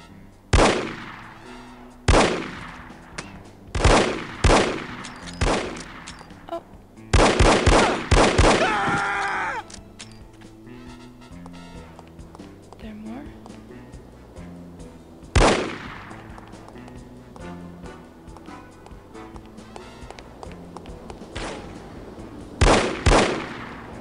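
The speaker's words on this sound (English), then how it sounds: "There are some guys shooting." Bursts of gunfire in the video game No One Lives Forever, with sharp loud shots in clusters and rapid volleys early on, then scattered single shots over a quieter background.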